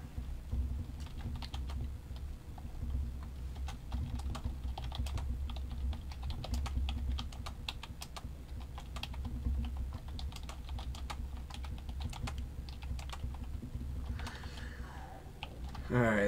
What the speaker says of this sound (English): let me tell you what I'm typing